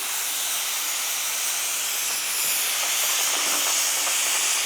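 A spoonful of oil heats in a pan for yam chutney, giving a loud, steady sizzling hiss that fills the whole stretch without a break.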